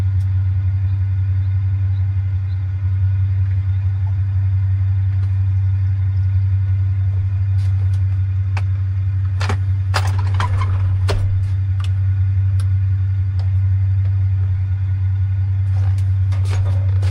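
Van engine driving in the BeamNG video game, a loud steady low drone throughout with scattered clicks and knocks around the middle, no talk.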